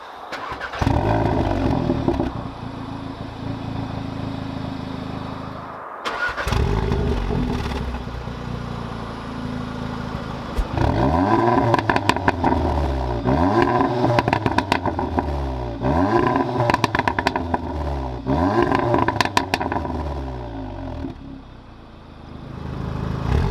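Two hot hatch exhausts, a Volkswagen Golf R and an Audi S3, rev loudly: a sustained engine roar, a brief cut around six seconds, then a series of rhythmic rising and falling revs with no talk.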